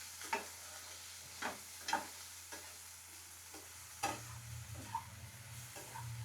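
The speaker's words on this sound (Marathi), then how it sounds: "आता आपण याच्यामध्ये शिमला मिर्च टाकूया. ते पण दोघांना आपण एकजीव करून घेऊया." Onion and capsicum stirred together as they fry in a pan for a chicken sandwich filling, giving soft irregular scraping strokes over a faint, steady sizzle with no voices.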